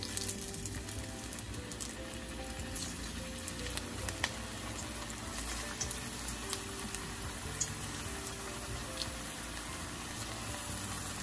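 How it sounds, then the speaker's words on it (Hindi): Malai kofta shallow fry in a modest amount of smoking-hot oil, making a steady, even crackle and fizz with a few faint pops over a constant low hum and no voices. "तो चलिए फिर मैं इनको तल लेती हूँ हमारे कोफ्ते।"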